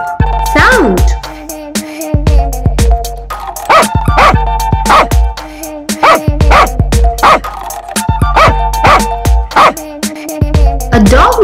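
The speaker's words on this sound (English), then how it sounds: "A dog makes a woof sound." A dog barks in repeated loud woofs and yips, spaced in regular bursts with short whimpers between, close to the microphone over a backing music track.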